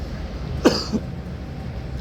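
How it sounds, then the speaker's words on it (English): One short, close cough rising briefly above a quiet background hum, then nothing more. "You're going to make me cough, honestly."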